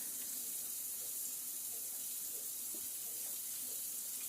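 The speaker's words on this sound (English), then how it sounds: "So I'm just going to have to use my sink and just kind of rub it" Tap water runs into a kitchen sink in a steady, close hiss while smoked bacon is rinsed and rubbed under the stream, with faint soft handling sounds beneath and no talk.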